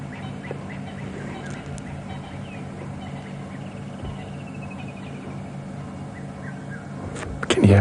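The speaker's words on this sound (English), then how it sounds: "Can you hear all the different birds?" Various wild birds call at Djuma Game Reserve during an afternoon safari drive, faint scattered whistles and chirps over a steady low rumble.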